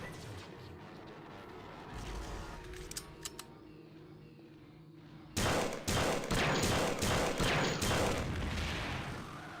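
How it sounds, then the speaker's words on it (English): A fusion cannon firing in System Shock 2, a quieter stretch with a couple of clicks, then a loud run of rapid heavy blasts with ringing tails, close and dominant. "The weapon he shot at you is the fusion cannon."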